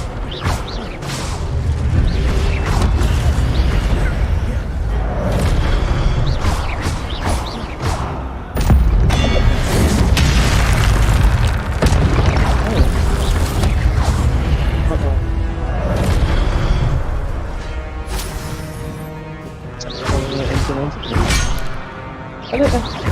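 Fire spell blasts cast as Incendio in the video game Hogwarts Legacy, heard as repeated bursts and thumps over loud game sound and music, with a voice calling out spell names.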